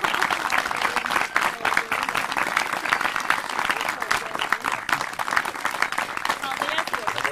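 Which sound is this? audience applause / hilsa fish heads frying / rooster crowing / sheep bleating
audience applause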